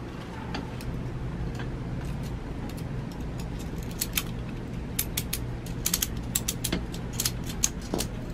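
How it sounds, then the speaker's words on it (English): A regular ratchet strap is tightened on an RV stabilizer. Rapid close clicks come in uneven bursts that grow denser toward the end, over a low steady background hum, with no talk. "This is just regular ratchet strap."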